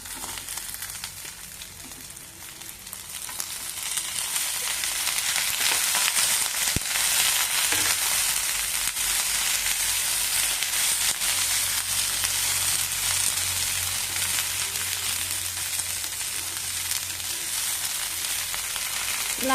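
Chopped green tomatoes fry in a pan for a chutney, a steady broadband sizzle that swells louder after the first few seconds and then holds, close and continuous with no talking.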